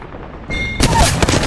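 Gunfire from the video game Apex Legends cracks in a quick burst of loud shots after a brief electronic tone.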